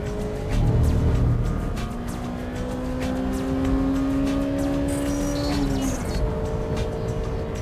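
Honda Civic Type R EK9 engine at full throttle through race-track corners, a steady rising and falling engine drone with strong harmonics, loud and continuous with a brief dip in pitch near the end.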